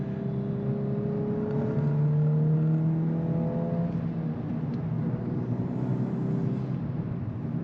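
A 2024 Volkswagen Golf R with a manual gearbox pulls hard under acceleration, its engine note a sustained close drone with rising whir tones and a low rumble, heard alone without speech.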